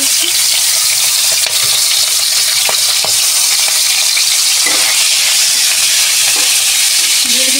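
Finely chopped prawns frying in oil for a stuffing in a pan, a loud continuous sizzle with a few sharp stirring clicks and scrapes, close and without talk throughout.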